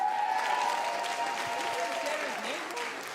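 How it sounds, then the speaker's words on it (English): Audience applause at a women's collective leadership graduation celebration, a sustained dense wash of clapping from a large room that slowly tapers, with some voices and tones mixed in. "Give them a round of applause."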